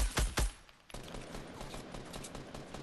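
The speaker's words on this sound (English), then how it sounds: "Are you trying to shotgun me from there?" Gunfire from the Fortnite video game: two sharp, loud shotgun blasts come in quick succession at the start, followed by a steady din of game action and distant shots.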